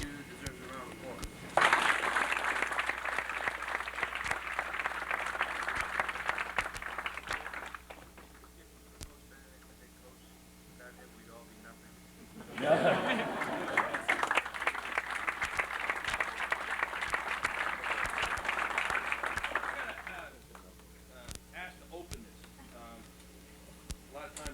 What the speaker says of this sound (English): He really deserves a round of applause.